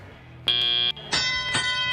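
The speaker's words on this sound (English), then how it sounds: "As the buzzer sounds," Match-start buzzer at a robotics competition, two loud harsh electronic blasts, the second longer and pulsing, close and alone.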